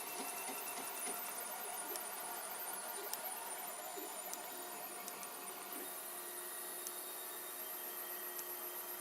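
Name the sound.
3D printer printing with filament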